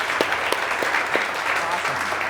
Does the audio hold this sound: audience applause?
yes